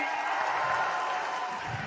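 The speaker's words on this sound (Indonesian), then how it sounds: "Boleh tepuk tangan untuk kedua pendukung pasangan calon kita pada malam hari ini." A crowd at a 2024 gubernatorial debate in Bangka Belitung, Indonesia, claps steadily in a broad wash of applause, moderately loud and continuous, with some murmuring voices mixed in.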